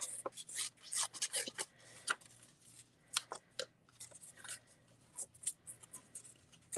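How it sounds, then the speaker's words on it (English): Paper card edges torn by hand, a series of short dry rips and crinkles in quick bursts, close and fairly quiet, with no talking. "I'm just going to rip the edges of it, because we're just going to go kind of au naturel on this card"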